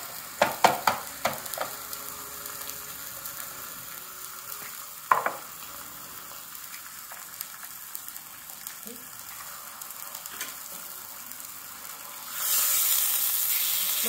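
A single large slice of beef sizzles softly in a sukiyaki pan at a Kurokawa Onsen inn dinner: a faint, steady frying hiss with a few sharp clicks early on, then a louder burst of hiss near the end.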